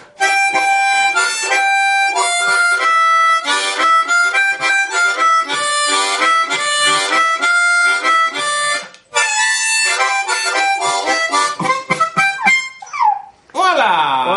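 A harmonica played with the tongue blocking technique, bright, dense chordal notes in a rhythmic pattern, loud and close, with a short break near the end and no talking.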